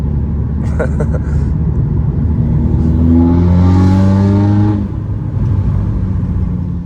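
A car engine rumbles nearby, then revs up in a rising, whirring sweep that peaks and falls away before settling back to a low rumble.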